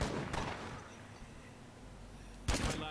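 Two gunshots from the State of Decay 2 video game boom out, one near the start and one near the end, each a sharp loud crack with a rumbling tail over low ambient noise.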